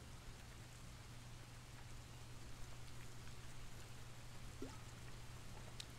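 Steady rain falling outdoors, a soft even hiss of drops throughout with a low constant hum underneath, faint and unbroken.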